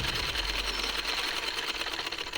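A sewing machine runs steadily, stitching around the hem of a salwar leg opening with a fast, even mechanical chatter, close and uninterrupted.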